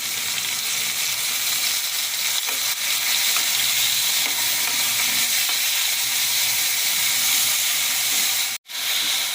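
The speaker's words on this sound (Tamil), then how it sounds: "இப்போது கத்திரிக்காய் எடுத்து வச்சுட்டு அதை போட்டுடலாம்" Eggplant pieces fry in a pan of tomatoes for a prawn curry, producing a loud, continuous close sizzle and hiss with a brief sharp break near the end and no talking.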